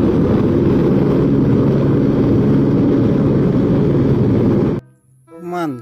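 A toy helicopter makes a loud, steady whirring drone for nearly five seconds before stopping suddenly, followed by a brief voice at the end.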